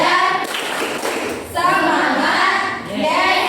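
Children in a classroom clap in rhythm to a chant, a steady run of sharp hand claps with young voices over them and a short break partway through.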